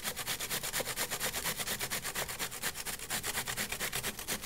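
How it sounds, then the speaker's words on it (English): Vegetables for coleslaw are shredded on a grater: quick, even rasping strokes repeat in a steady rhythm, close and alone with no talk. "Whenever you're using a shredder or a grater, definitely keep those fingers back."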